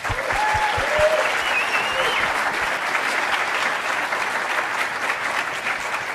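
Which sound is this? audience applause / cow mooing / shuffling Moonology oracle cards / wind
audience applause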